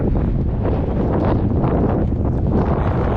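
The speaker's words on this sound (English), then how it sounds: "I didn't know it was gonna be this windy today." Strong wind roars steadily across the microphone, a constant heavy buffeting rumble with no pauses.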